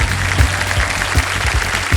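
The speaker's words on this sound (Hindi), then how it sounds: "तालियां बज जाए इनके लिए।" A studio audience on the Kaun Banega Crorepati (KBC) game show applauds the contestants, a loud, dense, continuous wash of clapping over a regular thumping low beat.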